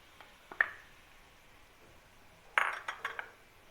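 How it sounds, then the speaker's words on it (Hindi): Chicken mince tipped into a pan of softened, translucent onions, giving a soft clink at first and then a cluster of sizzling, scraping clatters near the end, close by with no talk. "और अभी हम इसमें कीमा डालने जा रहे हैं चिकन का।"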